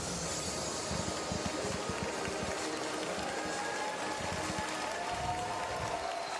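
An arena crowd at a FIBA Asia Cup qualifier basketball game applauds the Mongolia team as it leaves the court, a dense, steady wash of clapping heard from a distance.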